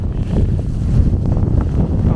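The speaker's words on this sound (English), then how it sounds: "There's a big gust of wind coming, guys. Wow. That is a strong gust of wind." A strong gust of wind roars during a snowstorm on a Brooklyn street, a steady, loud low rumble buffeting the microphone throughout with no break.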